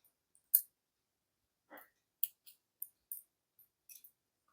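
Scissors snip a thread tail during beaded earring making, a few small sharp clicks spaced irregularly in a quiet room.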